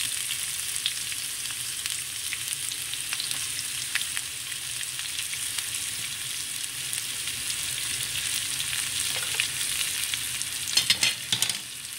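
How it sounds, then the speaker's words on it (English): Onions frying in oil spiced with asafoetida for Sri Lankan sambar crackle and sizzle steadily up close, with a few louder stirring scrapes near the end and no talking. "And I'm going to add the onions."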